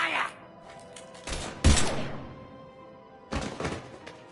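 Gunfire from a Mass Effect firefight, with a few sharp bursts of shots and heavy thuds standing out over the game's background score and effects, loud and close.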